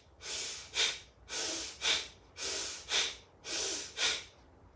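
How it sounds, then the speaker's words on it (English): Four forceful exhalations through the nose during yoga breathing, each a sharp hissing puff following a softer inhale, in an even repeating rhythm, close and fairly quiet with no talking. "You exhale, you force the air out down through the nose."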